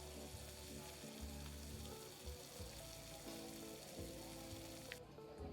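Food fries with a steady, unbroken sizzle in the Roblox game Restaurant Tycoon 2, with low, steady tones humming underneath and no talking.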